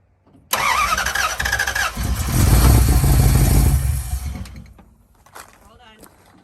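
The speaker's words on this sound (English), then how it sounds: "Hold the gas pedal down about a 1/2 inch and do it and crank it." A 1969 Dodge Dart engine with ignition trouble cranks briefly, then catches and roars loudly for a few seconds before dropping off, with a voice speaking near the end.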